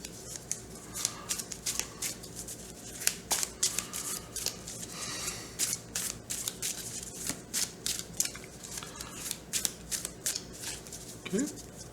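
Cards from a deck-building board game being riffled and shuffled back into a deck, a run of quick papery flutters and snaps repeating close up throughout, with people talking quietly alongside.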